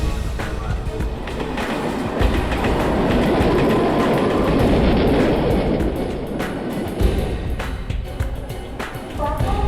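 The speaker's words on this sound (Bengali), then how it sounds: "কোলাপাটনা ভায়া নাসিক যাওয়ার ট্রেন 3 নম্বর প্ল্যাটফর্মে আসছে" A train rolls into a station platform, a steady loud rumble of wheels and carriages with rhythmic clacking over rail joints, building slightly in the middle before easing.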